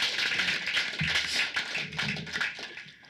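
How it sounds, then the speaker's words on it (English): Audience claps for a young singer at a community event, a short burst of scattered hand claps at close range that thins out toward the end, with no talk over it. "Everybody give her a round of applause."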